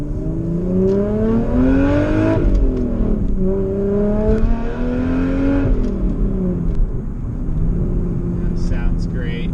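A turbocharged Toyota 2JZ engine in a Lexus IS300 pulls hard under boost, its tone climbing through several gear-like sweeps with a close, continuous growl and faint whirring.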